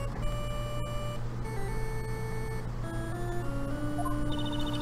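A mobile phone ringtone from the Ace Attorney video game plays as a run of clear electronic beeping tones that step up and down in pitch, loud and continuous with no talking.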